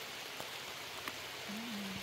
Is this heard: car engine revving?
no